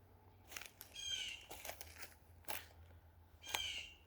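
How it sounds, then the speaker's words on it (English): Outdoors, a blue jay or mockingbird gives a couple of short, harsh calls amid scattered rustling and knocking, moderately close over a quiet background. "I believe that's a blue jay. It might be a mockingbird though"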